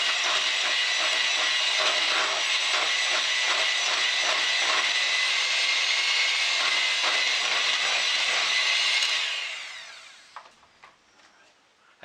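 An electric mixer with beaters runs steadily and loudly with a whirring, rattling buzz, then is switched off and winds down, leaving small clinks and quiet.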